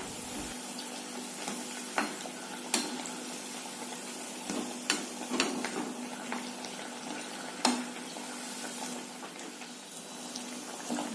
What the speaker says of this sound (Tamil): நல்லா எண்ணெய் காஞ்சிச்சு. வடையை போட்டுட்டோம்.